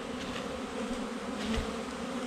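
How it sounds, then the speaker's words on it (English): A dense swarm of honey bees buzzes steadily around an open hive, a close, continuous drone with no break and no voices. "it's weird being around this many bees"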